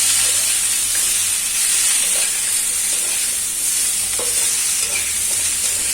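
Mixed vegetables for shukto stir-fried in a pan, a loud continuous hiss and sizzle close by with soft scraping stirs throughout and no voices.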